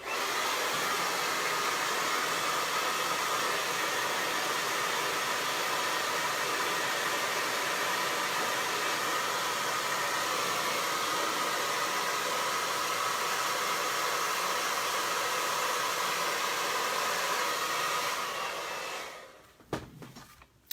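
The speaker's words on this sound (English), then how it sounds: "I'm going to hair dryer it real quick so we can get those last coats on there" A hair dryer blows steadily at close range for a long stretch, a constant whooshing roar that cuts off abruptly near the end.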